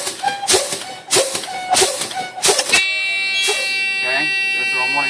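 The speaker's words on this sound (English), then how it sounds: "there's our warning light and buzzer" Low air pressure warning buzzer in a Class A truck cab sounds as a steady sustained electronic tone after several rhythmic hissing pumps of the brake pedal, with a voice talking nearby.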